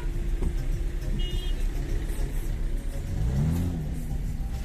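A BMW passing close by at a busy outdoor car market, a brief engine whir and rev rising then fading over steady street noise.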